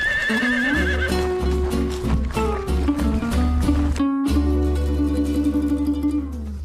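A horse neighs loudly and repeatedly up close while hooves clop in an uneven rhythm beneath it.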